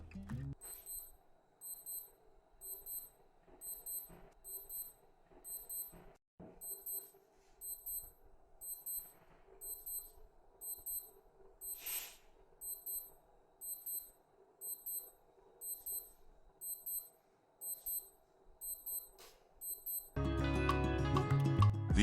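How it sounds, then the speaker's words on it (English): A digital watch alarm beeps in rapid repeated bursts, a steady rhythmic pattern of high, thin tones, fairly quiet, ending with a rustling noise. "In terms of the alarm, I'd say it has a modest sound, neither too loud nor too soft."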